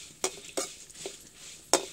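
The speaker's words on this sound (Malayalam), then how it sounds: "സാമ്പാറിലേക്ക് മല്ലി വറുക്കുമ്പോൾ നമ്മൾ എപ്പോഴും ഒരുപാട് അങ്ങോട്ട് മൂത്ത് പോകരുത്, പാകം മൂപ്പിൽ വറുത്തെടുക്കണം." Coriander seeds roasting in a dry pan for sambar give a faint crackle, broken by several sharp scraping stirs of a spoon against the pan.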